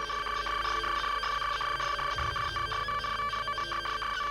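A telephone ringing within a song, its steady electronic ring pattern repeating throughout, mixed into music that runs continuously underneath.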